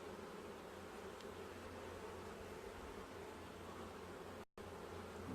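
Honeybees buzz in an opened hive, forming a faint, steady, dense drone close by, with one brief dropout near the end.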